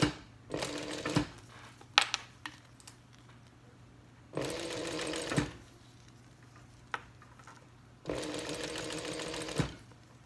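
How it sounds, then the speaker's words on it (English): A sewing machine runs in three separate bursts along the long edges of a vinyl wristlet strap, each run a steady whirring stitch of about a second, with small clicks and handling noises between, close and moderately quiet. "I'm just going to go ahead and sew 1/8 of an inch on each long edge."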